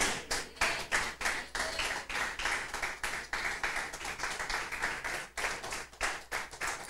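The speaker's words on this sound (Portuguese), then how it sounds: "Você pode aplaudir a Jesus" Worshippers at a church service clap for Jesus, a fairly faint but continuous patter of many hands with distinct rhythmic bursts and a brief dip midway.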